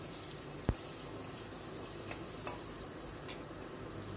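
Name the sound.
potatoes being stirred and fried in pan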